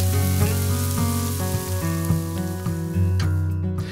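Loud, dense sizzling of steaks frying in a hot pan, close up, with a constant crackle and no voices.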